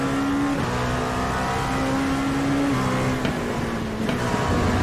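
Race car engine in the iRacing sim, a steady loud drone holding one pitch with a couple of small shifts, running alone and unbroken with no talk.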